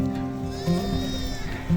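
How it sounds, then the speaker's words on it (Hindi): A flock of sheep and goats with Himalayan herders bleats on a high mountain ridge trail, the bleats loud and close with wavering calls overlapping. "हमें पहाड़ी चरवाहों का एक झुंड मिला, जिसमें असंख्य बकरियां और भेड़ें थी।"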